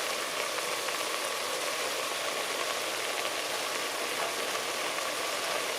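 Meat and onions brown in a hot pan with a steady, even hiss and crackle that holds at a low level throughout, with no voices.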